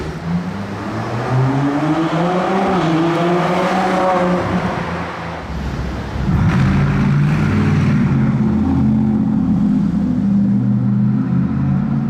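An Audi RS5 on a Monaco street revs hard and near, its engine note climbing and falling in repeated sweeps before settling into a loud, steady roar with some background traffic.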